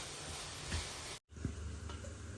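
Onion paste frying in a pan for a tangy, spicy arbi (taro) curry gives a steady close sizzling hiss, broken by a brief silent gap near the middle and a couple of soft clinks.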